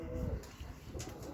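Pet pigeons kept indoors coo low and soft in a short, murmuring burst, close by and alone.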